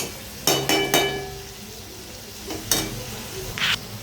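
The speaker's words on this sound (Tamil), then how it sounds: "அது வரைக்கும் நம்ம வதக்கி விட்டுட்டு வெயிட் பண்ணலாம்" Vegetables and tomato sauté in a pan for kurma under a steady sizzle, with a few sharp metal clinks and scrapes as a spoon stirs them.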